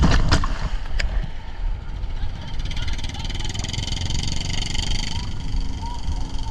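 Sampan fishing boats working the surf off Cox's Bazar, with a steady roar of wind and breaking waves, a couple of sharp knocks early on, and a broad hiss throughout.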